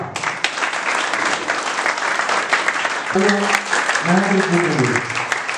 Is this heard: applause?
yes